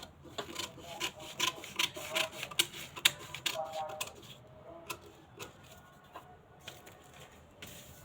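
Scissors snipping through cloth while cutting out a sleeve piece, a run of quick crisp closing snips in uneven rhythm, close and fairly quiet, thinning out toward the end with a few isolated cuts.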